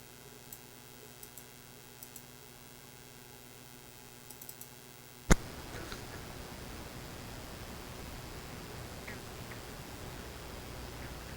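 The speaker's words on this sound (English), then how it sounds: "Oh, that's the toad." A toad gives a long, steady buzzing trill with a rich droning tone and faint ticks over it, then stops abruptly after a sharp click, leaving only quiet hiss.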